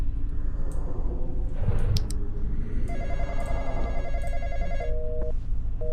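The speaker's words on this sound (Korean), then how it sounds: "일단 전화 전화부터 좀 끄자." A ringing telephone in a horror video game about keeping an intruder out of a room, a steady repeating electronic ring over a dense low game rumble.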